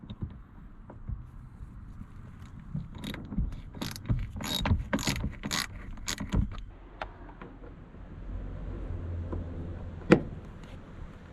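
Metal mechanism clicks and ratcheting from a 14 mm wrench working bolts loose on a car's seat mounts, a busy cluster of close, irregular clanks and jangles that peaks midway, then a single sharp clink near the end.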